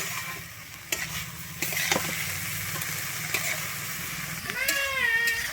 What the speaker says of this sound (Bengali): আমি লবণ আর হলুদটা ভালোভাবে শাকের মধ্যে মিশিয়ে নিচ্ছি